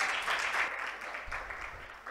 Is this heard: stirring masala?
no